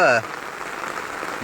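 Heavy rain falls steadily around a flooding house in Nellore, a continuous close hiss of water following a brief loud voice at the start.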